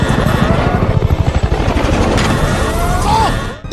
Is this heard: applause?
no